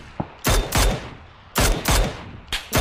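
Enemy gunfire in PUBG on the Karakin map, several loud sharp shots in quick bursts, each with a short ringing echo, close and repeated across the whole stretch.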